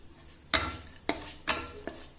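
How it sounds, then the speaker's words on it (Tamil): Spices fry in hot oil in a pan while a spoon stirs them, giving a steady low sizzle broken by four sharp scraping knocks of utensil against pan, close and moderately loud. "நம்ம ஸ்பைசஸ் நல்லா மிக்ஸ் ஆகி எண்ணெயில் நல்லா ஃப்ரை ஆகி வரணும்"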